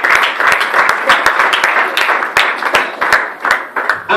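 Congregation at an evangelistic campaign service in Brussels applauds and cheers in a steady, dense wash of clapping that runs throughout, with scattered louder individual claps standing out and a few voices mixed into the crowd noise.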